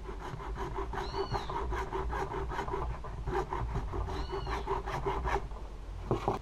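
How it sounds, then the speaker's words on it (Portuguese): A hacksaw cuts through PVC pipe in steady back-and-forth strokes, a rasping, scraping rhythm that carries on continuously and ends with a clunk. "Acho que eu vou cortar na segueta mesmo."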